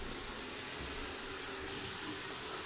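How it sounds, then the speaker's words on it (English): Running tap water pours steadily into a sink as hands are washed, a constant close hiss of flowing water with no speech, faint and even. "now I need to wash my hands"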